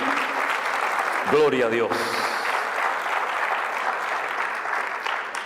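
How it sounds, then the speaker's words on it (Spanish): Church congregation applauding at a worship service, a dense steady wash of clapping filling the clip while a voice briefly calls out over it. "Fuerte ese aplauso a nuestro Dios."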